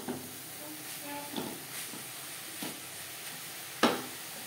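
Yardlong beans, bottle gourd peel and grated coconut stir-fried in a wok over high to medium flame, heard as a soft steady sizzle with occasional scraping stirs and a sharp clatter near the end.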